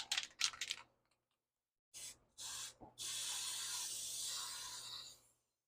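Eastwood rust encapsulator sprayed from an aerosol onto the kick panel area of a 1937 Master Deluxe car body: a few short hissing bursts, then one long steady close spray hiss that stops cleanly.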